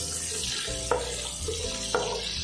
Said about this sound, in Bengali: ফুলকপিটাও কিন্তু হালকা ভেজে নেবো